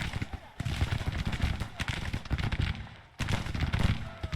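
Musket and rifle volleys crackle continuously in the Civil War strategy game Grand Tactician, a steady loud fusillade with short lulls, while a man gives orders over the battle.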